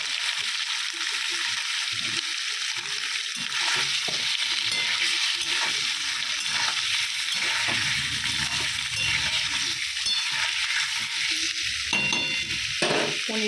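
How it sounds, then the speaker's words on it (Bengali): Paneer fries in oil with black cumin and dried chilli, giving a constant close sizzle with frequent spatula scrapes and clinks against the pan. "পনিরটা একটু ভাজা হোক"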